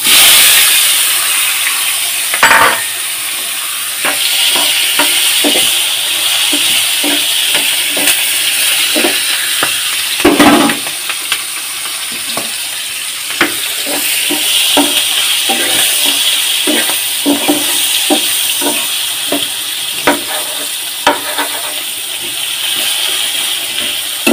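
Onions sizzling in a frying pan, with a steady hiss beneath irregular stirring clicks and scrapes that sound close by.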